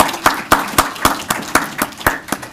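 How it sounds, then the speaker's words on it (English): Applause for volunteer board members at the Stop The Clot Forum in Boston: close, rhythmic clapping with distinct, evenly spaced sharp claps, about four per second, loud and prominent over a light background of other hands. "give them a round of applause"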